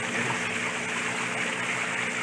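Water pours steadily back into a crayfish tank with a continuous close rushing trickle, even and unbroken throughout, with no voices.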